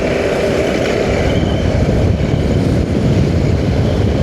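A KTM 390 Adventure motorcycle rides at night through cold, foggy air near Bengaluru, giving a loud, unbroken roar of engine and wind rush with no pauses. No one speaks.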